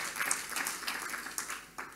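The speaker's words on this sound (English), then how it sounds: "So I'll give her a round of applause." A round of applause from a congress audience, quiet and somewhat distant, with individual claps standing out in an uneven rhythm that tapers slightly toward the end.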